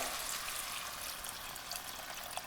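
Water poured from a vessel into a cooking pot of amla chole makes a steady, close splashing rush that continues evenly for the whole stretch with no talking.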